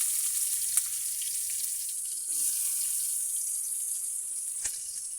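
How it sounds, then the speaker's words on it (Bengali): Onion frying in hot oil gives a steady bright sizzle throughout at a moderate level, with a few faint clinks and stirring sounds and no speech. "তেল দিয়ে দিছে, এখন পেঁয়াজটা ভেজে নেবে।"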